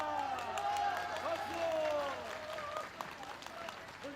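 A large crowd claps and cheers at an outdoor homecoming welcome for a former president in Bongha village, a steady wash of applause under a voice speaking over it.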